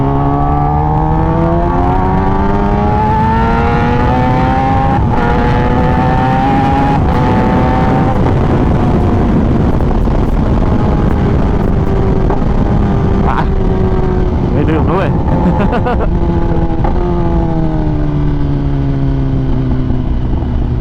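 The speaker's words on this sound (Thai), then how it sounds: "เวลาที่เราชิปลงใช่ไหมเสียงมันจะแบบ สะใจมากเลยนะ" A sport motorcycle's exhaust roars up close, its pitch stepping down through repeated downshifts, with sharp pops and crackles between gear changes.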